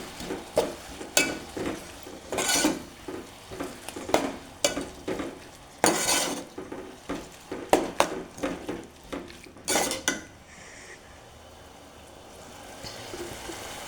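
Ingredients are stirred in a bowl, with a squeezed dough mixture added and mixed in, giving repeated close scraping and slapping strokes in an irregular rhythm, louder bursts among softer ones, and no talk.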